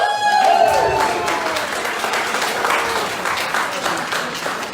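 Audience applause at a small-town economic development gathering in Inman, South Carolina, a sustained wash of clapping that gradually fades over several seconds, with faint voices underneath.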